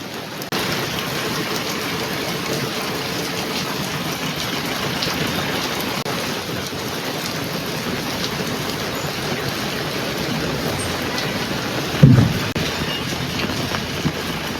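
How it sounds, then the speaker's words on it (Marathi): Heavy rain drums down in a loud, continuous wash with one brief low thump near the end, and no voices. "पाऊस पण इतका जोरात झालाय"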